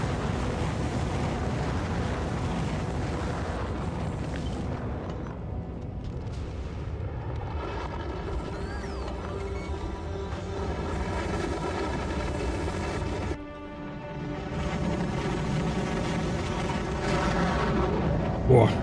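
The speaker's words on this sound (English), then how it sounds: "are the rocket silos too loud? They are pretty loud" Rocket silos in a space factory video game give off a steady, loud, roaring rumble that fills the whole stretch with little change, dipping briefly near the end before swelling again.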